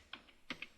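A few quick, faint keystrokes on a computer keyboard, close and isolated, tapping in short irregular bursts during coding work.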